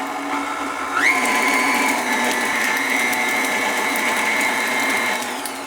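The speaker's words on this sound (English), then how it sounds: "I'm just going to give this a moment to mix." An electric mixer beats lemon blueberry loaf batter with a steady, fairly loud motor whine that rises in speed about a second in, then holds an even pitch alone until the end.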